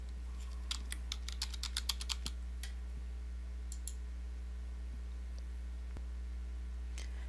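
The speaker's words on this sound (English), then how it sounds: "you can enter your NAICS code or keyword into the search box" Quick bursts of keystrokes on a computer keyboard as a search keyword is entered, a rapid cluster of clicks followed by a few scattered taps, close and fairly quiet over a steady low hum.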